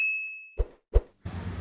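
A notification bell ding: a steady high tone fades out, followed by two clean, separate ringing strikes with short decays, then a burst of broadband noise.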